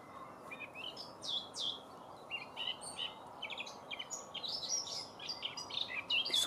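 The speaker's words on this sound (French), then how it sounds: "Les oiseaux chantent." Several birds sing and chirp at dawn by cold water at a fishing spot, overlapping bright calls in a steady chorus over a low ambient hush, fairly close and continuous.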